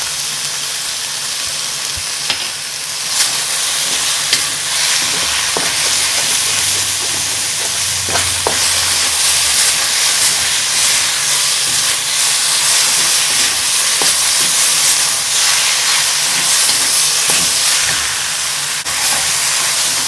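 Lamb frying in a pan with cumin and chilies, a loud, steady sizzle and hiss filling the whole stretch, with occasional soft scrapes of stirring.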